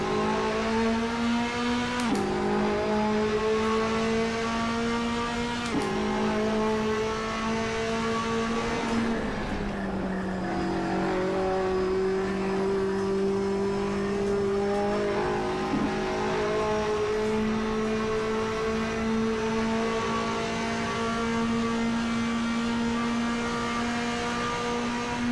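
Race car engine in Assetto Corsa droning loud and close, pitch climbing and dropping through several gear changes as the throttle rolls on, with a steady whine over the top.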